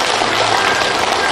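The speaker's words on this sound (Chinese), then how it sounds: "掌声欢迎两位" A theatre audience claps to welcome two contestants at a Cantonese opera amateur competition final, a brief, steady burst of dense clapping with no pauses.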